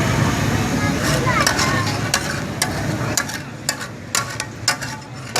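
Tawa chicken with yogurt, coriander powder and garam masala cooking on a hot griddle, a steady close sizzle with sharp scraping stirs and clanks of a spatula toward the end, while someone talks over it.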